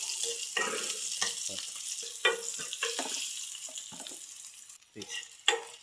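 Onions frying with eggs in a pan hiss softly with a bright, airy sizzle, broken by repeated spatula scrapes and knocks at an uneven pace, close and fairly quiet.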